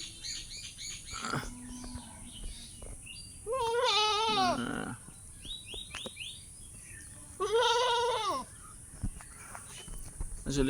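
A cross-breed goat bleats twice, long wavering cries close by, between softer bird chirps and a person's voice speaking quietly.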